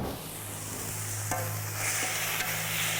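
Beef sizzling and frying in a pan with oil, a steady close crackle and hiss with light stirring scrapes, under a constant low hum and with no talking.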